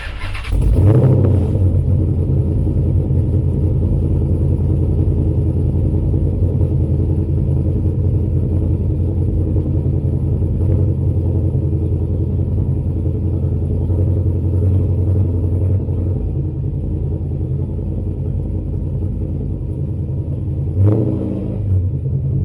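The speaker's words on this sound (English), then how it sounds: "We should fire it up right now so I can let you hear how the exhaust sounds in the mild cam." A custom Dodge Charger SRT8 street car with a mild cam and tuned exhaust idles with a deep, loud, lumpy rumble that holds steady throughout, a brief blip near the start and another near the end, with no talking.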